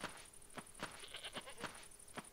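A goat in a video game bleats in short repeated calls, about six evenly spaced cries over a steady high electronic hum, faint and close.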